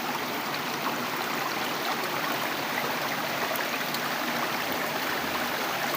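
River water at Biak na Bato rushes steadily beside a footpath, a loud, even hiss and burble that fills the whole stretch with no voices.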